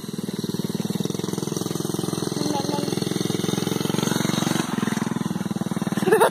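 A dirt bike engine runs steadily with a buzzing, pulsing drone throughout, moderately loud and sustained, with a slight rise in level near the end.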